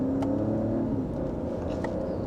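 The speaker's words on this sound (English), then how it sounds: "behind the wheel for the Mercedes, where I have it in sport mode, second gear. We'll give it a minor acceleration" A Mercedes GLE luxury SUV accelerates gently in sport mode in second gear, a smooth, muted engine hum rising slightly under steady road and tire rumble heard from inside the cabin, with no speech.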